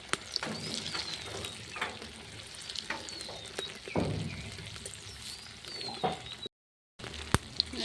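Chicken and potato spring rolls fry in hot oil, a steady crackling sizzle with bursts as pieces are moved and turned, close and fairly soft, with a brief silent gap near the end.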